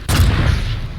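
A rocket explosion in a Quake-style duel video game, one loud, close, low boom lasting about a second before cutting off.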